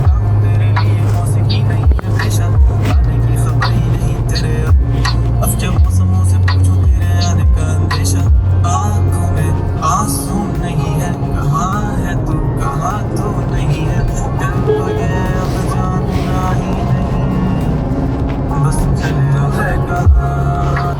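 A car cruising along highway NH 146 in Madhya Pradesh, with a steady, loud engine and road drone throughout and brief thumps and rattles over the surface; no voices.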